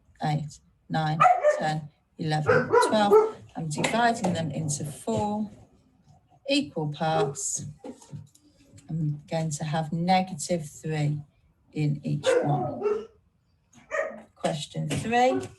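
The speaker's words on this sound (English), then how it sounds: "Apologies for the dog there." A household dog barks intermittently in the background while a teacher keeps talking through a maths lesson, the short yaps faint beneath the steady speech.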